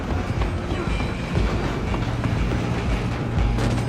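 A train running in the video game Red Dead Redemption 2, a continuous close rumble with rhythmic rail clatter throughout.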